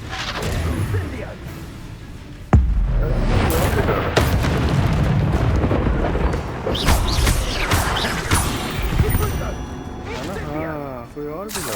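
Spell blasts in the Hogwarts Legacy combat game on PC, with a sharp booming impact followed by a dense, continuous roar of crackling magic and clashes under loud action, close and sustained.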